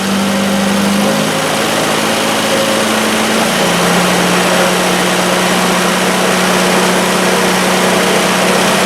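A Triumph Spitfire engine held at about 3,000 RPM during generator testing, a loud, continuous, even drone with a slight pitch shift early on, running alone without talk.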